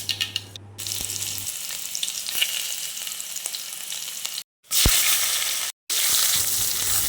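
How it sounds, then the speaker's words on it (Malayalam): Mustard seeds splutter in hot oil in a home kitchen as a coconut curry begins: a steady, close sizzle with scattered sharp pops and crackles, broken by two brief moments of silence. "കടുക് പൊട്ടിക്കുക"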